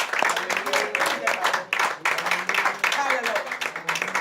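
A church congregation at a Friday night prayer vigil claps and acclaims Jesus, a dense, loud burst of hand claps blended with voices calling out.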